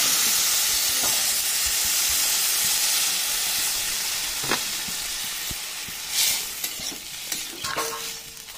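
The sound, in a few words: water added to frying mixed vegetables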